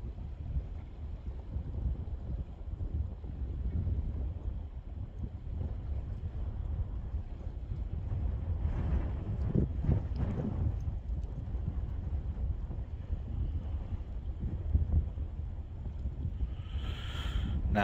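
Wind gusts steadily at a beach on the Conway Estuary, making a continuous low rumble and buffeting against the microphone throughout, with no speech.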